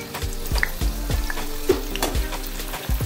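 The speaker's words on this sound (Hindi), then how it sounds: "इसमें हम डालेंगे प्याज, इन प्याज को हम फ्राई कर देंगे" Onions frying in oil in a kadai for pulao garnish, a busy close crackling sizzle broken by repeated rhythmic scrapes and knocks of stirring.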